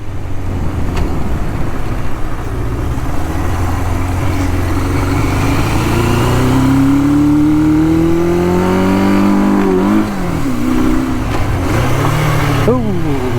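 A 1977 Suzuki GS550 motorcycle on a test ride, its engine climbing in a long rising rev, then dropping at a shift, with a sharp blip near the end over steady wind and road noise.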